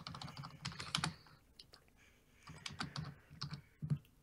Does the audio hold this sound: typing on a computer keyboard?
yes